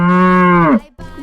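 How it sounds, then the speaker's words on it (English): A cow moos once, loud and close, in a long sustained tone that bends and drops at the end, followed by a brief low start of another call. "a cow says moo."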